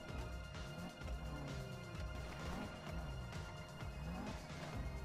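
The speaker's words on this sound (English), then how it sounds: "You keep fucking smashing it into walls." Repeated smashing impacts as a car in GTA 5 is driven into walls, dull thuds and crunches recurring over a continuous engine and game soundscape, fairly loud and dense throughout.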